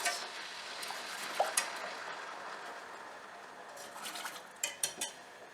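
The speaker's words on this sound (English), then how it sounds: "So I stir a bit." Ginger syrup stirred in a pot with a spoon, faint scraping and a few clinks of metal against the pot's side, with a low steady simmer hiss underneath and a brief cluster of clinks near the end.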